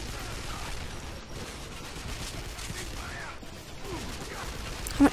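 Sustained gunfire from the Wolfenstein shooter game, with dense, continuous bursts and rattling shots layered over steady game noise, while a voice talks over the action.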